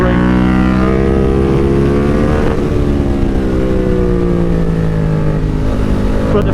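A BMW F 900 R Cup Racer motorcycle engine drones steadily under load while being ridden on track, loud and close, with pitch gradually rising and shifting as it gets faster, plus a short dip around a gear change.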